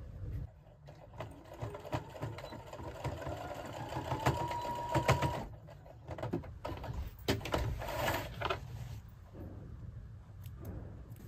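A sewing machine stitches fabric bags in bursts of rapid mechanical whirring, stopping and starting several times at close range with brief pauses between runs.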